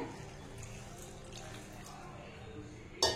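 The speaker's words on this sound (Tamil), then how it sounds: "ஒரு 1/4 டம்ளர் தண்ணி சேர்த்திக்கலாங்க." Water is poured into a vessel of chutney ingredients with a steady, soft splashing stream that runs throughout, ending in a brief louder clatter.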